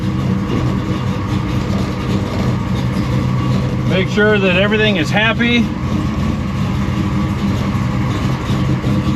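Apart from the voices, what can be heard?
car with Dana 60 axle driving around the neighborhood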